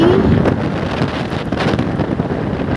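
Strong wind buffets the microphone steadily and loudly from start to end, a constant broadband roar on the way to a hospital.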